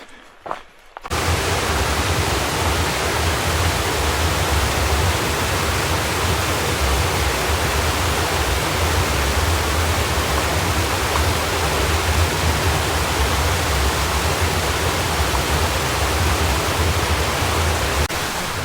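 A waterfall on a hiking trail roars as a loud, continuous wash of rushing water that starts abruptly after a second and holds steady throughout.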